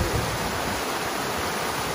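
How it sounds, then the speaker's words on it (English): A water fountain at the top of the Queen Elizabeth area splashes in a steady, dense rush of falling water, close and unbroken, with no voices. "water fountain"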